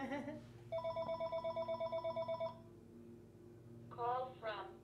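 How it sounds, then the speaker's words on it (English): A telephone rings with a steady electronic trill of rapid pulsing beeps, moderately close, lasting a couple of seconds, with people talking before and after it. "This obviously is the telephone ringing."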